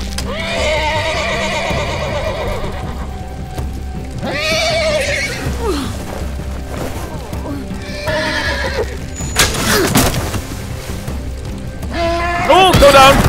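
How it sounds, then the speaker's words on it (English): Loud, repeated whinnying from a horse in The Walking Dead: The Final Season game, several neighs spread across the scene with hoof clip-clops and other game sounds between them. "that's the horse from my dream."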